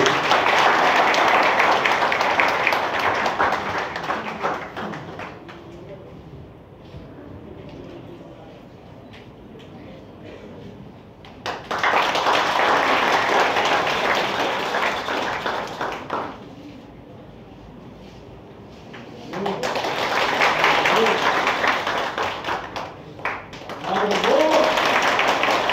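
Crowd applause at a vodou festival in Gonaïves, Haiti, breaks out in three loud, sustained bursts for an honoured dignitary, with quieter stretches of a voice speaking between them.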